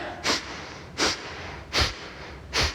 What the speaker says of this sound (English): we're going to do some Kapalabhati breath here